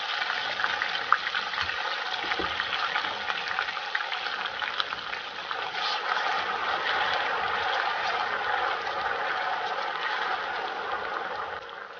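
Ayamase sauce pours into a hot pot and bubbles, a steady watery rush and simmer that stays close and continuous for the whole stretch with no talking.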